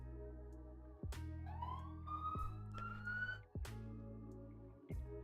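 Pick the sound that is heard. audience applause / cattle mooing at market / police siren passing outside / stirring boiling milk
police siren passing outside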